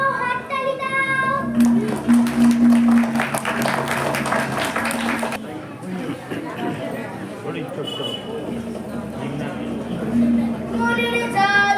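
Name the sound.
audience clapping for a song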